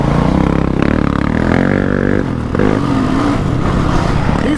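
A light trail motorcycle revs hard while being ridden on an Iowa trail, a loud close engine rising and falling in pitch with rough throttle blips and rattling.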